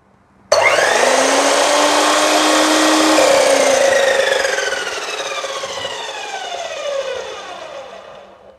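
A 12-inch 1800W compound miter saw spins up from silence with a sudden loud whine, holds a steady high-pitched blade drone, then slowly winds down as the pitch falls, running free without cutting.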